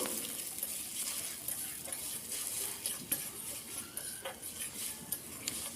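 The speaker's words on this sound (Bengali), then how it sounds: "পেঁয়াজটা দেখুন নরম হয়ে এসছে এরপর ডিম দুটো দিয়ে দিচ্ছি আমি দিয়ে ডিমের একটা ভুজিয়া বানিয়ে নেবো" Two eggs fry in a pan with softened onions, giving a soft, steady sizzle broken by occasional light scrapes and taps of a stirring utensil, quiet and close.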